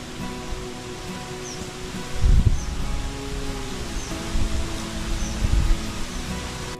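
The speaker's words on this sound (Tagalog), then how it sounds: "Lumalakas ang hangin at malamig ang simoy ha." Strong wind rushing through leaves at a house as rain approaches, a steady broadband rustle with two louder gusts swelling midway and near the end, continuous and fairly close.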